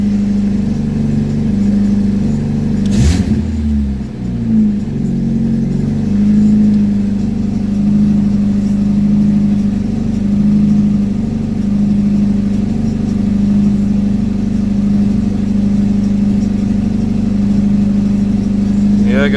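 A 1998 Dodge Neon engine idles steadily after a cold start at a raised idle speed, a continuous low hum throughout with a brief louder disturbance early on.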